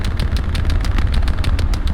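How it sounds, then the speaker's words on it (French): Rapid gunfire crackles nonstop in a tank video game battle, a dense run of sharp, evenly repeating shots over a heavy low rumble, with no talking. "Attendez, y'a quelque chose qui tire proche."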